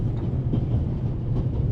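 Steady low rumble of a passenger train rolling along its rails, a continuous rolling drone with faint rhythmic texture, heard close from inside the carriage with no talking.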